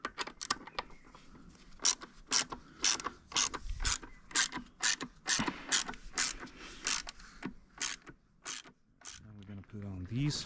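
A hand ratchet tightens a part on a 2022 Yamaha MT-09 SP motorcycle, giving sharp, close clicking bursts in a steady back-and-forth rhythm, with a brief low thump midway and a voice at the end.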